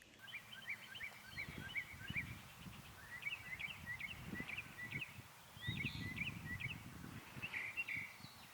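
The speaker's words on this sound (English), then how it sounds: "our mockingbird will usually mimic or repeat a sound 3 or more times" A mockingbird sings outdoors, its bright chirps and whistles running in short repeated phrases across the whole stretch, over a steady low rumble of background noise.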